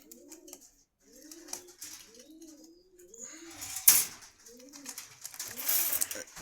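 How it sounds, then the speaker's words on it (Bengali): A male pigeon at a Dhaka pigeon market coos in repeated soft, rolling phrases, close by, with brief rustles and a sharp clatter midway. "এই একটা নর কবুতর,"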